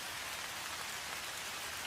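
Steady rain falling, a dense even hiss of countless drops with no pauses, close and fairly loud throughout.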